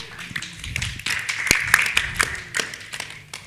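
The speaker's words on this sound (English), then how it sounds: "A big round of applause for Robert." An audience at a Fedora conference session gives a short round of applause, a dense patter of hand claps close by in a room, faint and brief.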